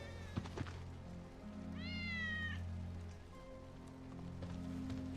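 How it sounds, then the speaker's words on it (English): A cat meows once in Final Fantasy VII Remake, a clear rising-and-falling call heard mid-clip over a steady ambient hum and soft patter, with a fainter second mew near the end. "That's Wedge's cat."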